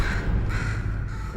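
In the game Portal 2, a crow caws twice in quick succession, harsh and close, with a low rumbling room tone beneath it.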